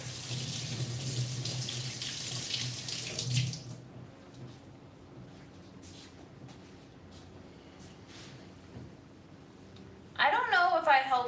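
Tap water runs hard into a pot for about three seconds, then shuts off, leaving a quiet room with faint background sounds before a brief clatter near the end.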